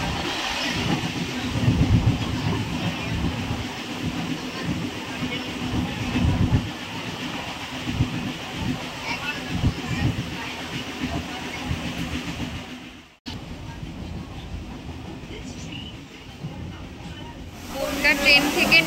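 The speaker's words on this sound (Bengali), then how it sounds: "আর ওই দেখো ট্রেন চলে এসছে।" A train pulls into a station in West Bengal, its loud rumbling wheels and carriage clatter rolling past up close, with people talking nearby; the noise cuts off abruptly, then returns softer with a hiss.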